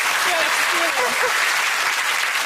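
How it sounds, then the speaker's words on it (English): A television studio audience at a comedy chat show breaks into a round of applause, dense, loud and sustained, with brief laughter and voices tucked inside it. "round of applause for yours"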